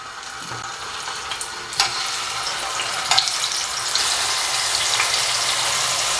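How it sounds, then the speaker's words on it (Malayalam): Cut tomatoes hiss loudly in hot oil in a pan for a roasted tomato chutney, the sizzle swelling steadily louder with a few clinks as pieces are set down. "ഇനി ഇതിലേക്ക് നമ്മുടെ കട്ട് ചെയ്ത തക്കാളി വെച്ച് കൊടുക്കാം."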